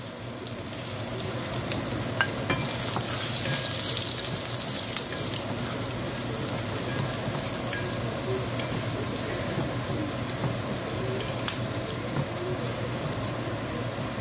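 Garlic sautés in a small amount of oil with onions, giving a continuous close crackling sizzle with light popping. It holds steady and moderately loud throughout, with no voices over it.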